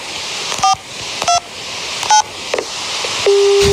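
Telephone keypad tones dialed on a rainy day at a golf course: three short separate beeps, then a longer steady tone, clear and close with no talking.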